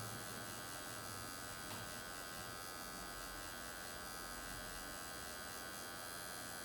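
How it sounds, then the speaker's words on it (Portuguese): A permanent makeup tattoo machine (dermograph) buzzes steadily and alone, held at a tilt while camouflaging skin blemishes and scars, a constant faint electric whine with no pauses. "E com o dermógrafo bem inclinado."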